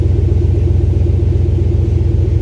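A warmed-up 2021 Chevrolet Silverado with the 6.2 V8 idling, a loud, close, steady low exhaust rumble with an even pulsing beat and no voices.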